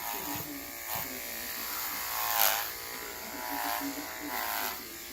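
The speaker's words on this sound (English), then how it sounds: "I'm using an Andes clipper" A cordless Andis clipper buzzes steadily while trimming a horse's bridle path, humming close and even with a few swells in pitch as it passes over the hair.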